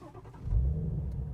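A 2020 Shelby GT350 engine catching and settling into a deep, steady exhaust rumble, heard close and fairly quiet with no talking.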